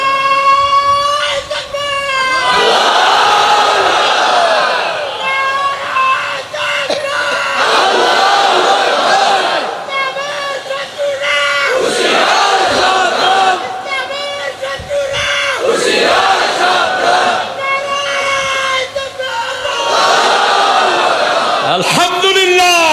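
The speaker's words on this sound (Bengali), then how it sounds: "একটু একটা স্লোগান দেন দেখি।" A large crowd at an outdoor religious sermon gathering shouts a slogan together in loud, repeated bursts, voices rising in unison and briefly dropping between calls.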